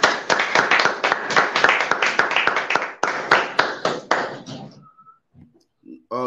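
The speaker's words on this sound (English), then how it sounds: "Please, everybody clap for beauty." A group of people clap together in steady, loud applause for several seconds, then it fades out, leaving a brief sound and a short voice at the end.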